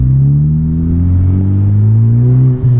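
A Honda Civic Type R FK8 pulls hard in second gear, its engine drone rising steadily and loudly from inside the cabin before a brief dip at the shift near the end.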